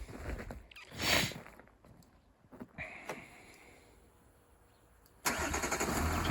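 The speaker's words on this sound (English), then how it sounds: "So that's going to start the car." A car is started remotely from a phone app: a few quiet clicks and a short whir, a brief crank, then the engine catches and settles into a steady idle, close by.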